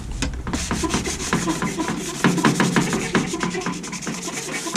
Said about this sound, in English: scuff it up where these stickers are